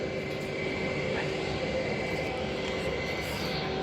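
A jet airliner taxis at Cologne-Bonn Airport, a steady loud engine roar with a droning whine, heard from fairly near and constant throughout.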